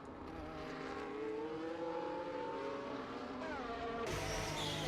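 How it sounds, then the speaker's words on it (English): Race cars driving into the pit lane, a steady engine drone with rising and falling whine, heard from a distance and held at a constant level throughout. "Several cars on the way into the pit lane now."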